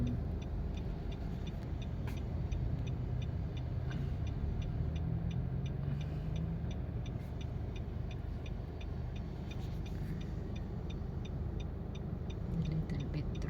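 Steady city road traffic in Cagayan de Oro, a continuous low rumble of passing cars and engines heard from inside or beside the road, fairly even in level with faint ticking and no clear talk.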